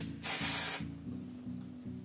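A short, sharp hiss of Batiste Rose Gold aerosol dry shampoo sprayed onto hair roots, lasting about half a second, close up over a quiet low hum.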